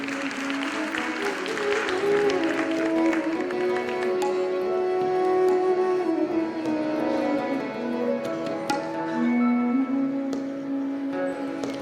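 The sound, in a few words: audience applause at ghazal concert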